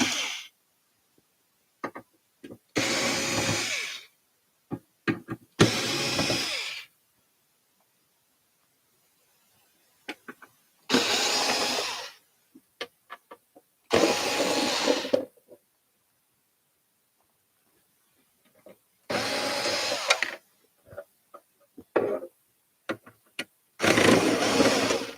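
Screws being removed from an appliance cabinet with a power driver, several short whirring bursts of a few seconds each separated by silent pauses, close and clear.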